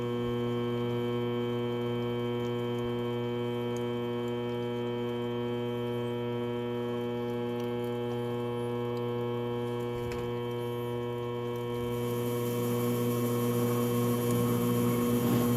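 A Nitro card cutter runs with a loud, steady motor hum and tonal drone that keeps going throughout, with a faint click partway through and a rougher, noisier grinding near the end as cards are shredded.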